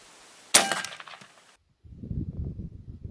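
Single sharp metallic clang from an AEA HP MAX .357 caliber air rifle shot striking a target, ringing briefly before fading, followed by faint low rustling.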